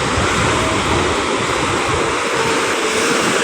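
Sea waves roll in along the Manila Bay shore at Navotas, a steady broadband wash of surf heard close and loud, continuous with no voices.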